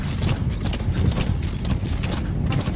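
A horse gallops in Metal Gear Solid V: The Phantom Pain, its hoofbeats a steady, close clip-clop running through the whole stretch over a dense, rumbling game soundscape.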